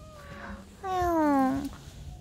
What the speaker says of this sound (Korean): 고양이가 있다고 해서.